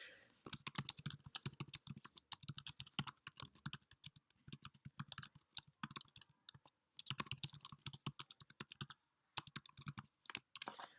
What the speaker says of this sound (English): So here I'm going to write a comment for the student.